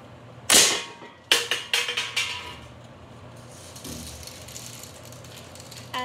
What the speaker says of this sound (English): Going to start off with an empty beer can, and we're going to be shooting it with this.